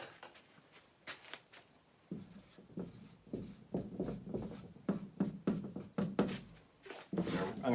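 Pen scratching across paper in short bursts of strokes, close and fairly quiet, during a tax calculation worked out by hand with a calculator nearby.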